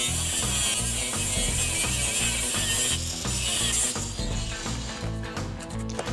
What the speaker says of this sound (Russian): Это болгарка.